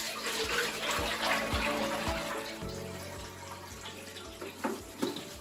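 Water poured out of a cleaning bucket in a washroom, a broadband splashing gush with a few low thuds, fairly close and steady, easing toward the end with small sloshes.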